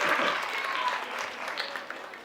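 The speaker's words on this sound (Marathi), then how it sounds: "यांच्यासाठी जरा जोरदार टाळ्या वाजवल्या" An audience claps steadily for students at a cultural program, a dense crowd-wide burst that slowly thins toward the end.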